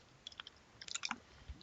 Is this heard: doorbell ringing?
no